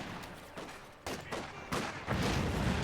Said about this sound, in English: that's a bolt action rifle there